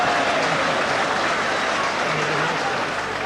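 A rugby crowd at a Leeds versus Bradford cup match roars and murmurs in a dense, steady wash of noise, with a commentator's voice faintly underneath.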